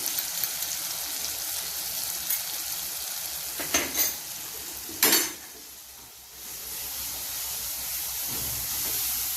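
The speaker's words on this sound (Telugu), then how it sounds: "అల్లం వెల్లుల్లి పేస్ట్ పచ్చివాసన పోయేదాకా బాగా వేయించుకోండి" Ginger garlic paste fries with softened tomatoes in a pan, a steady close sizzle broken by a couple of sharp hissing bursts, then a quieter stretch before the frying hiss returns.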